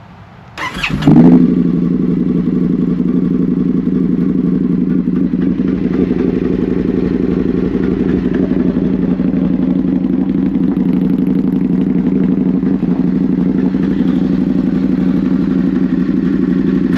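An Indian FTR1200 motorcycle, on a NOCO battery, cranks briefly and fires up, then settles into a steady, loud, close idle with a lumpy low rumble and faint mechanical clatter, no voices.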